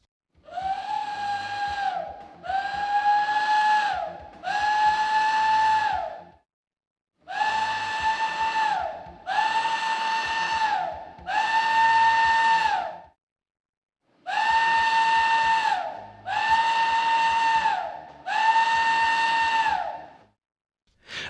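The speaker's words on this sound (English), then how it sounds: "The vapor release whistle is 3 short blasts 3 times for a total of 9 blasts." Refinery vapor release steam whistle sounding nine short blasts in three groups of three, each blast a loud, steady tone about a second long, with brief gaps inside each group and longer pauses between groups.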